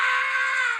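A single sustained, high, piercing scream rings out loud and steady for almost a second before cutting off, with nothing else heard.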